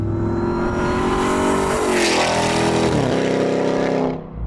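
A loud, deep engine roar from a RAM TRX pickup truck with American Racing long-tube headers, revving continuously, rising in pitch and then dropping, heavy rumbling exhaust close by with no talking.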